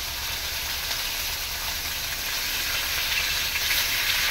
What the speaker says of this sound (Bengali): এই দেখো মাছ ভাজা চলছে একদম লাল লাল করে